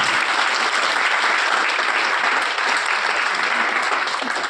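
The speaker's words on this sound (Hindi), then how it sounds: "एक बार ताली बजनी चाहिए इन लोगों के लिए।" Audience breaks into steady, loud applause, a dense continuous patter of many hands clapping together for several seconds before it tails off.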